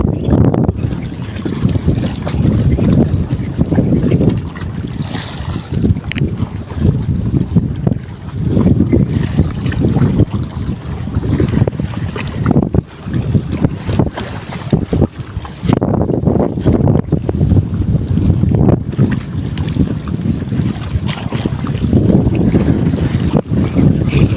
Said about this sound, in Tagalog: Medyo lumakas ang hangin.